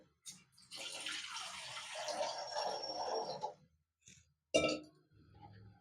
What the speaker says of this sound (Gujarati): અને એમાં આપણે આ પાણી નાખશું